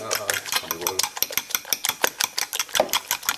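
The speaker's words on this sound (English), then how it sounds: "So 7 eggs in there. We're going to whisk that up a little bit." A wire whisk beats seven eggs in a bowl with fast, rhythmic clicking and rattling strokes, close and fairly loud. Someone speaks briefly at the start.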